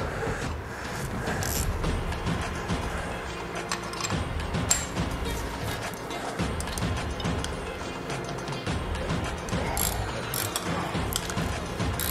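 Ratcheting 7/16 wrenches loosening bolts on the shift lever of a 2022 Harley-Davidson Road Glide ST, a close, steady run of quick metallic clicks with gear-like rattling and no talk.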